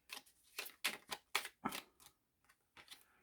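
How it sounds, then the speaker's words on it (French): Tarot cards being cut and shuffled by hand, a run of sharp papery riffles and snaps in quick bursts, close and fairly quiet, with short pauses between, no talking. "avec les amours de Marlowe, on va faire une coupe et ensuite un tirage en 9"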